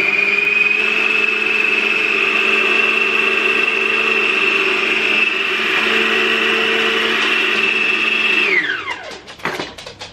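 A food processor whirs at a steady high pitch while mixing dough, running loud and close for several seconds before spinning down and rattling to a stop.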